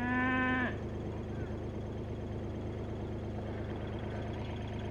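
A single sheep bleats briefly at the start, fairly near and clear, then gives way to steady outdoor farm ambience.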